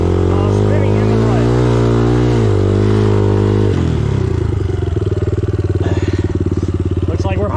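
An enduro motorcycle ridden off-road in the rain, its engine revving hard as the rear wheel spins, pitch wavering then dropping into a rough, pulsing chug; loud and close throughout.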